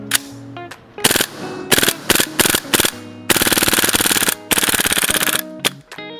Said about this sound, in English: for this gun, it's got semi and full auto. And the rate of fire on this gun, it is pretty darn fast.